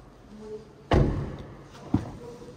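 The frameless door of a 2024 Dongfeng eπ 007 electric car shuts with a solid thud, followed by a second, lighter knock a moment later.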